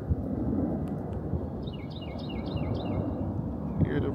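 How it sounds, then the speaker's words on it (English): Birds chirp in a short repeated series of high, quick notes in a Jamaican backyard in the early morning, faint over a steady rumble of outdoor wind and background noise. "Hear the birds chirping."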